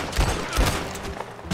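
Several close gunshots in Red Dead Online, heavy booming reports in quick succession with a rough, reverberant tail, loud and without talk.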